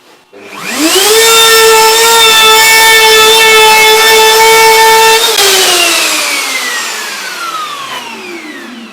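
A router spins up with a rising whine and howls steadily while cutting wood on a homemade router table, loud and close, then winds down in a long falling tone after the cut.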